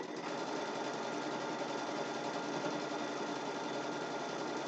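A sewing machine stitches a quilt border in one steady, continuous whir, close and even throughout with no pauses and no talking.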